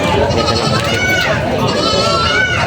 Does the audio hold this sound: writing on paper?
no